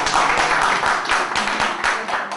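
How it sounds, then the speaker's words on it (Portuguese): Lecture audience applauding Lamarck: dense, loud clapping from a crowd, sustained and even for a couple of seconds with no talking over it. "uma salva de palmas para o Lamarck!"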